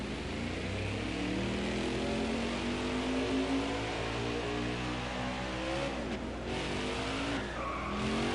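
Race truck in NASCAR Heat 5 running a reverse lap at Chicagoland at full speed, a steady loud engine drone with shifting pitch sweeps and tire squeal, continuous throughout with no talking.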